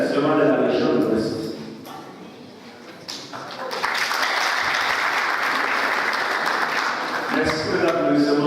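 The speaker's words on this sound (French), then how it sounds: "Merci pour l'applaudissement" An audience at a general assembly breaks into applause after results are announced, steady clapping swelling from about four seconds on, with talking at the start and end.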